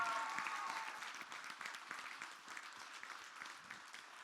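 A trailer-launch audience claps steadily, a dense patter of many hands that carries on for several seconds without a break and gradually softens.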